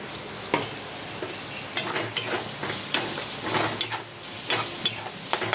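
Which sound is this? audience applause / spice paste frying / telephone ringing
spice paste frying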